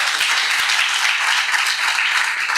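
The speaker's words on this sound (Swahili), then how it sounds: "Tuwapigie makofi tafadhali." Steady audience applause at an investing masterclass, dense clapping from many hands filling the room throughout, loud and sustained without breaks.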